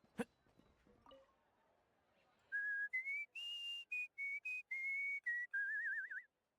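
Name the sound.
character whistling in the video game Genshin Impact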